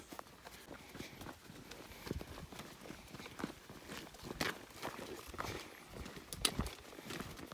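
Horse hooves clip-clopping on a rural pilgrimage trail along the Camino Francés, an uneven run of soft footfalls mixed with walkers' steps and outdoor rustle, moderately close and fairly faint.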